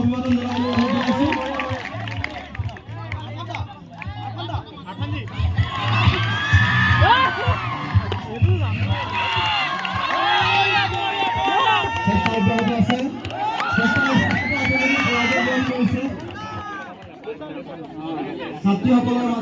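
Students at a college National Sports Day event cheering and shouting for a team, an excited crowd of young voices whooping in waves, loud and close, with chatter throughout.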